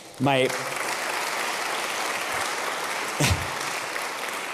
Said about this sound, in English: You can celebrate and clap for them again